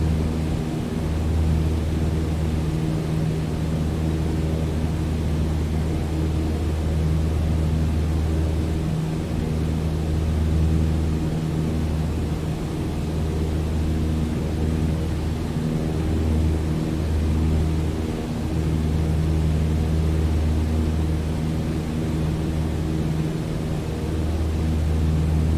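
Small single-engine Cessna 152 droning steadily in flight in Microsoft Flight Simulator, a loud, continuous low engine hum with slight pulsing and no voices.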